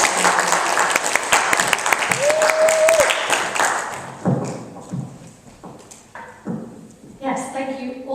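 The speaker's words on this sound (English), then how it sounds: "So we will give our panelists a round of applause" A community audience claps for a discussion panel, dense applause for about three seconds that thins into scattered claps, then gives way to speech and room noise.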